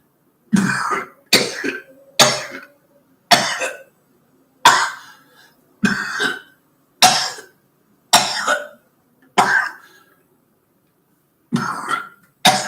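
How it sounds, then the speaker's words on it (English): A man coughs repeatedly after smoking a cigarette, about ten harsh, close bursts spaced roughly a second apart, with short quiet gaps between them. "And that's what happens when I smoke a cigarette these days. All I do is cough."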